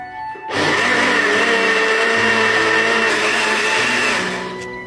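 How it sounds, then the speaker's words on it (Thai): An electric blender whirs steadily as it purees scooped-out mango flesh, starting abruptly and running loud and close for several seconds before winding down, with no talking. "ควัดเอาจิ้นมะม่วงออกมาอย่างอี้นะเจ้า แล้วก็จะเอาไปใส่เครื่องปั่นเจ้า"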